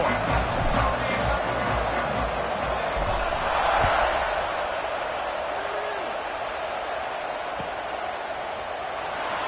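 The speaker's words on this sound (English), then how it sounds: "this crowd is buzzing after that last score" A college football stadium crowd keeps up a steady, dense buzz of chatter and noise with a brief swell of cheering, while a commentator talks over it throughout.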